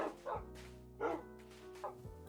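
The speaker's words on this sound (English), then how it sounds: "The barking might get annoying though." Dogs barking in the TerraFirmaCraft video game, three short barks spaced about a second apart over a steady low background hum.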